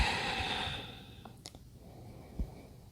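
A slow, breathy exhale during a yoga session, close and soft, trailing off after about a second into quiet room tone with a few faint clicks and rustles.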